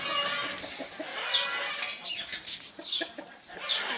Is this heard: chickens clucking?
yes